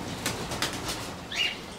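A champion racing pigeon beats its wings in a few quick, soft flutters while held in the hand, close and fairly faint against a quiet background.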